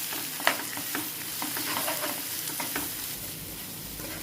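A filling mixture for stuffed chapati is stirred and mixed in a hot pan: a steady close sizzle runs throughout, broken by light scraping strokes of the spoon, with no talking.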